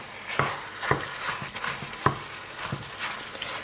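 Minced meat frying in a pan with butter and olive oil, a soft continuous sizzle broken by several sharp scraping stirs at irregular intervals, close up and without talk.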